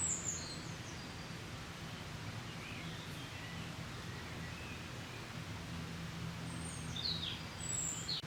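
Birds chirp faintly and intermittently over a steady rushing background of a waterfall beside an abandoned ruin, with a few brief high calls toward the end.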